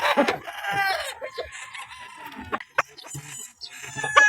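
Gamecock rooster on a game farm crowing and clucking, a strong crow at the start followed by scattered clucks and calls from nearby birds, fairly close and clear with no talk.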